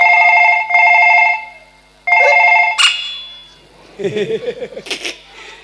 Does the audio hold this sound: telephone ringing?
yes